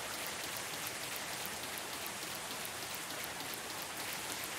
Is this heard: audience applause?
no